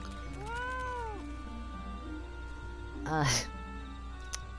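Cat meowing in the video game Final Fantasy XIV, a gliding meow early on and a brighter, sharper cry later, both under a steady hum of game music and ambience.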